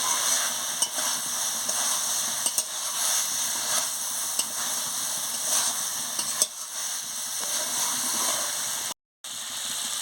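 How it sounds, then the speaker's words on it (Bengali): Bengali yogurt cauliflower curry (doi fulkopi) sizzling in a frying pan while being stirred, a steady close hiss of frying with light scraping, one brief cutout near the end. "দিয়ে ভালো করে নাড়িয়ে নিচ্ছি।"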